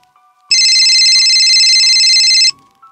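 A telephone rings at night in one loud, steady electronic burst lasting about two seconds, alone in a quiet room.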